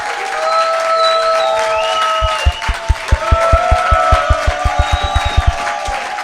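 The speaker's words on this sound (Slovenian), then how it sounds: "When we say we give God a mighty hand clap, it should be a mighty hand clap" A church congregation gives a mighty hand clap, with loud rhythmic clapping in strong steady beats that grows denser, over sustained singing or organ-like tones.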